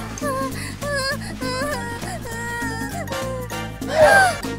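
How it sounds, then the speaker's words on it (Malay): A cat meows several times in a row at night in a bedroom, clear harmonic calls over a steady background of soft music, ending with one louder, rising meow. "Kucing lah."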